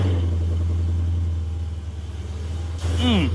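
A car that had sat unused for two weeks in 90-degree heat runs with a steady, close, droning engine note, without clear revving. A brief high whistling sweep rises near the end.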